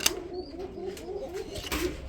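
Mookhi (musaldom) pigeons coo softly at a pigeon market, low repeated throaty calls close by, with faint chirps and background noise.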